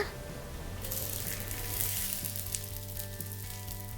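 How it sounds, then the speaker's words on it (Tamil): Dosa sizzling steadily on a hot pan after a little ghee is added, a close, continuous crackling fry with a low hum beneath, no voices. "நான் வந்து கொஞ்சமாக நெய் சேர்த்துக்க போகிறேன்"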